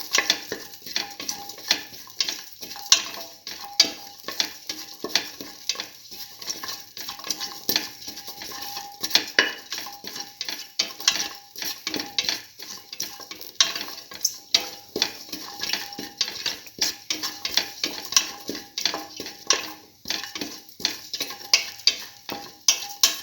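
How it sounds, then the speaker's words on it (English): Shallots and fennel seeds sauté in a pan, a continuous crackling sizzle with rapid, repeated metallic scraping and clinking of a spoon stirring against the pan throughout. "Saute."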